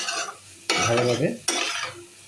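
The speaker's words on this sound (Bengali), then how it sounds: "মেখে এভাবে চলতে থাকবে ভাজি, যতক্ষণ না পর্যন্ত এটা ভাজি হবে।" Dried loitta fish with chilli powder is stirred in a frying pan. A sizzle runs under three scraping strokes of a spatula in an uneven rhythm.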